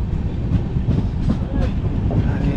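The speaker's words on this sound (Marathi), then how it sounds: "ट्रेन सुटलेली आहे" The Mandovi Express pulls out of a station on the Mumbai to Sangameshwar line with a loud, continuous low rumble of wheels and carriages, rhythmic clatter rising and falling close by.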